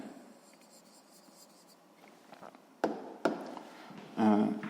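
A pen scratches steadily across paper while a sixth-grade math problem is written out by hand, with a few sharper taps and louder strokes toward the end.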